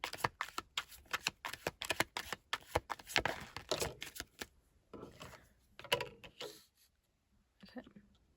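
Tarot cards are shuffled close by in a rapid riffling burst of papery flicks and slaps, then slower, sparser card shuffles trailing off into near silence.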